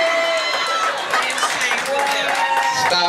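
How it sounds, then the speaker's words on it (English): A comedy concert audience claps in a dense, continuous patter, mixed with crowd noise and a voice talking over it. "Stop clapping, stop clapping."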